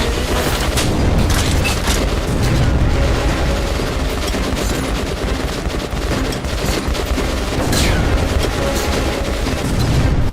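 Grenade blasts in the video game Metro Last Light, a loud dense barrage of booms and crackling bursts that runs continuously without letting up.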